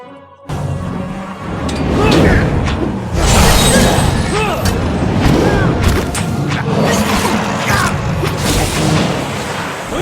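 Bouncing spell missiles in Pillars of Eternity clatter and boom in a dense, loud barrage of overlapping thuds, whooshes and crashes amid battle noise, with a voice talking over parts of it.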